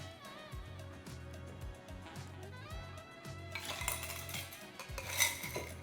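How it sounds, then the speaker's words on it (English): Ice cubes dropped into a glass clink and rattle with bright, close clatter, building to a denser burst of clinks toward the end, with no talk. "we'll fill the glass with ice"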